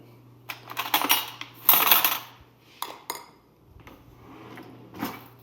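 A spoon clinks and scrapes in a bowl of Basic 4 cereal with protein oat milk. Several distinct clattering scoops come in quick clusters, close and fairly loud, then taper off into softer taps.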